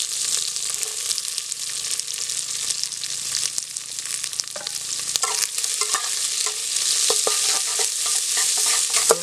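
Onions and curry leaves fry for chicken sukka, sizzling loudly in hot oil with frequent spatula scrapes and stirs. The sound is close and continuous, with the crackle building toward the end and no talking.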